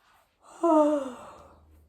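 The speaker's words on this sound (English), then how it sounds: "Yawning is a good sign." A person yawns once during a fascial stretching session, a drawn-out, falling vocal exhale that swells loudly then fades, close and alone.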